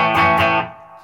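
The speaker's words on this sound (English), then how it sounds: "Just basic clean and some reverb." A clean electric guitar chord through a Marshall DSL40C amp's clean channel with reverb, no pedals, rings out loudly, strummed twice, then decays with a reverb tail.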